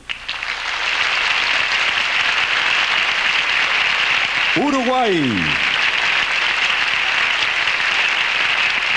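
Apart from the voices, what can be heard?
audience applause at beauty pageant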